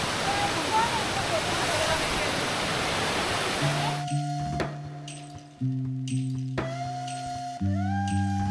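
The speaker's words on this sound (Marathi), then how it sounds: "म्हणजे तो एक धबधबा आहे" A waterfall in a rocky ravine on the Chanderi Fort trek roars as dense broadband rush for the first few seconds, then gives way to a steady tonal hum.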